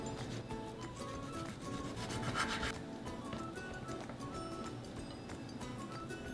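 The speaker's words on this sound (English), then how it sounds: "Next, I'm going to cut my tomato into slices." Knife slicing a fresh tomato for an arugula and mozzarella salad: a close, continuous run of soft rubbing and cutting strokes, steady and fairly quiet, with faint background tones throughout and no talking.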